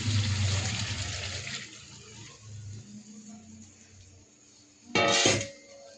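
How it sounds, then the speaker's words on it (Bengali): Water poured into a cooking pan, a loud splashing pour at the start that fades into a low trickle, followed by a short sharp clatter near the end. "এই জলটা দিয়ে দেবো।"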